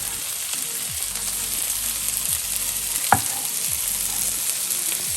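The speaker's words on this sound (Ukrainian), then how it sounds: "Морква смажилась до напівготовності. Можна додавати моркву і наш чесник." Carrots and garlic fry in a pan for a chicken liver pâté, giving a steady close sizzle with a few scraping stirs and a sharp utensil clack near the middle, with no voices.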